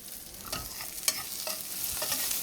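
Burger patties frying in a hot pan at medium-high heat, a steady close sizzle with a few louder crackles and spatters, no talking.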